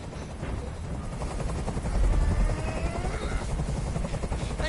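Helicopter hovering nearby in Detroit: Become Human, a low rotor thump and engine drone that swells a little midway, steady and continuous with no talk over it.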